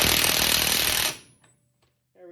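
Power tool tightening a 30mm axle nut on an MK1 VW Rabbit during a wheel bearing replacement: one loud, dense burst of impact hammering for about a second, then abrupt quiet with faint clinks and a short voice at the end.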